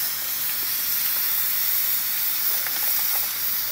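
Water boiling hard in a pot on a wood-burning stove in a rural kitchen, a steady close hiss and rolling steam with faint crackles, alone and without speech.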